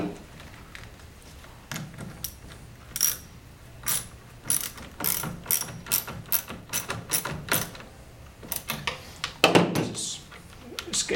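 A ratchet cinches down a fastener with a series of sharp, close clicks. The clicks come in uneven bursts with short pauses and grow slightly louder toward the end.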